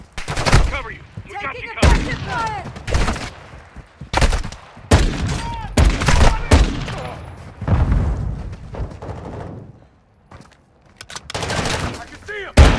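Call of Duty Modern Warfare 2 co-op gameplay on Mt. Zaya, full of loud bursts of automatic gunfire and single shots in quick succession, mixed with shouted voices and brief pauses.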